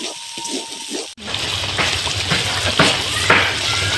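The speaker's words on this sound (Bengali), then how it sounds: "হলুদ গুঁড়ো শুকনো মরিচের গুঁড়ো আর হচ্ছে লবণ দিয়ে ভালো করে নাড়াচাড়া দিতে হবে" Sliced taro root being stirred in a pan with turmeric, chili powder and salt gives a constant hiss of frying and scraping with occasional sharper clinks of the spoon, loud and close, following a short quieter opening.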